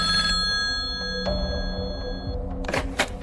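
An old-style telephone rings with a steady, bright electronic trill that stops partway, followed by a few clicks and handling sounds as the receiver is picked up, heard alone without talk.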